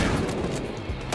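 Gunfire from the video game Battlefield Hardline: a dense, continuous stream of overlapping shots and booms crowding a short stretch, loud and close with no speech.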